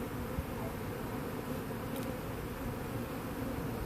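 Dense, steady hum of a swarm of honeybees during a hive removal, continuous and fairly close with no pauses or voices.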